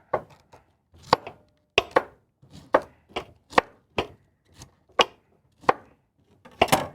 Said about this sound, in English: Let's cut this into chunks. Yeah, just cut it into chunks.